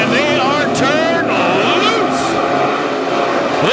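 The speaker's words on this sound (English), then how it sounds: "Listen to them hit the throttles and the RPMs go right out the roof on these cars" WISSOTA modified race cars roaring at high RPM as drivers hit the throttles on a speedway, a dense continuous engine blare over a steady wash of noise, with an announcer talking throughout.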